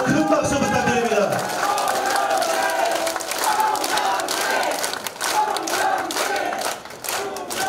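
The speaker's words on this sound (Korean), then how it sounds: "다시 한번 큰 박수 부탁드립니다." A lively crowd cheers and shouts, with some clapping, at the opening of a Democratic Party mayoral candidate's campaign office in Mokpo, South Korea. The noise is loud and sustained throughout, with voices rising over it.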